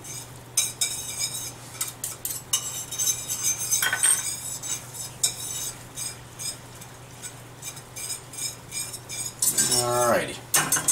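Cutlery mixes ingredients in a pan for salmon en papillote, producing a long run of quick metallic scrapes, taps and clinks, close and irregular, with a brief louder clatter near the end and no clear talk.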